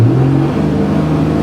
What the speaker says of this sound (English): that's the motor's quite loud